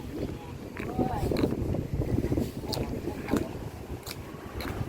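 Steady wind gusts buffet the microphone on a bridge over the Mun River, with passing traffic rumbling underneath. Someone talks over the constant roar.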